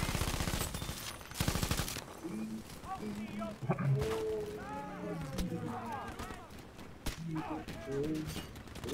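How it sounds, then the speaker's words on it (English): Machine-gun and rifle fire in Battlefield V, rapid bursts of shots up front followed by scattered crackling gunfire amid battle noise, with people talking over it. "I'm getting shot at."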